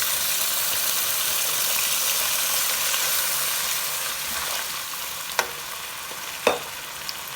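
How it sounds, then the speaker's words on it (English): Onion puree fries with curry leaves, bay leaves, cinnamon, red peppers and cumin-coriander powder for a white chicken korma, giving a continuous close sizzle with a couple of sharp spoon taps and scrapes near the end, no talking. "so you want to cook this onions just a little bit"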